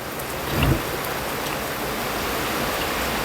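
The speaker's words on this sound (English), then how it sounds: "Like I'm getting rained on." Steady rain falls as a constant dense hiss, with a brief low rumble near the start and no voices.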